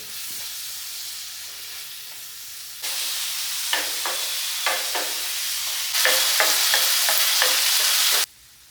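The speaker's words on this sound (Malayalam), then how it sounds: "ഇപ്പോൾ കൂടുതൽ ഇങ്ങനെ വഴറ്റിയിട്ടാണ് ഞങ്ങൾ വയ്ക്കൽ" Steady sizzling and frying of onion and tomato in a hot pan, with bursts of louder sizzle as they are stirred and tossed, close and continuous without any talking.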